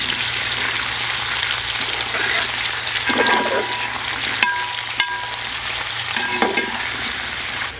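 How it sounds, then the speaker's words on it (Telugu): Potato and carrot pieces stirred through hot oil in a pan for a vegetable pulao, giving a steady close frying sizzle with a few scraping stir strokes and no talk. "లాస్ట్లో బంగాళదుంప ముక్కలు కూడా వేసుకుంటున్నాను ఇవన్నీ ఒకసారి కలుపుకోవాలి"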